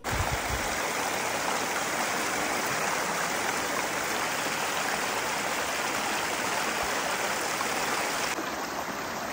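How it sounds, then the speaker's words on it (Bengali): A stream of water rushes steadily beneath a living root bridge in Meghalaya, a loud, continuous close-up flow of splashing and gurgling with no voices. "আর লিভিং রুট ব্রিজের নিচে দিয়ে এরকম জল যাচ্ছিল, আর এটার আওয়াজটা দারুণ লাগছিল"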